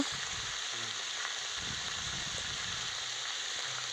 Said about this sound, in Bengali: এবার দিয়ে দিলাম আমি আলুগুলো তো দিয়ে ভালো করে আমি আবার একটু কষিয়ে নেব